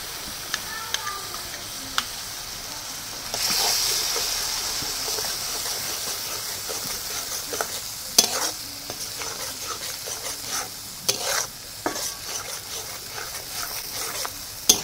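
Mustard, poppy seed and green chili paste frying and sizzling with onion masala in a pan for a Bengali fish curry, steady hiss with irregular scraping stirs of a spoon throughout, close and moderately loud.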